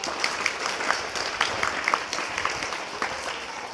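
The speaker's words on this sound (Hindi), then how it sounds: "जोरदार तालियों के साथ" Parents at a school parent-teacher meeting clap, a moderate, somewhat thin applause from a modest crowd with individual claps standing out sharply in an uneven rhythm, fairly close.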